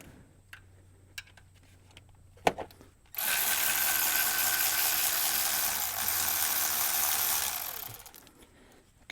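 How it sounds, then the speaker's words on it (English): Rapid, steady ratchet clicking from a wrench backing out a 10mm bolt on a GM OBS Chevy/GMC truck's Vortec V8, a dense burst lasting about five seconds after a few scattered taps and clinks, close and fairly loud. "let me go ahead and get this 10mm bolt off while we're in here"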